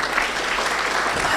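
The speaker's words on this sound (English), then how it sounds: "I think Tevin deserves another clap." Audience applause at a data protection certificate graduation ceremony: a brief, steady burst of many hands clapping, dense and even throughout, with no voices standing out.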